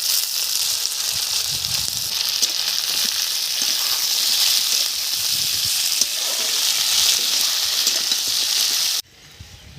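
Potatoes tipped into a pan of fried onions hiss and crackle in a loud, continuous sizzle up close, cutting off abruptly near the end.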